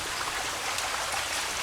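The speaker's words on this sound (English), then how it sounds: "you see a lot of runoff coming out of the mountain" Runoff water flowing down from mountain springs, a steady close rushing and trickling wash that continues unchanged throughout with no voices.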